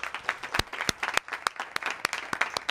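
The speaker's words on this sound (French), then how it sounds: "Applaudissez-le, s'il vous plaît." An audience at a school honours ceremony applauds a top student with close, moderately loud clapping and occasional sharper individual claps, steady throughout the short burst.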